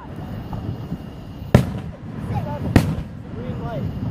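Two sharp fireworks bangs burst about a second apart, standing out over a continuous outdoor background of crowd murmur and voices, with faint whistling trails between the blasts.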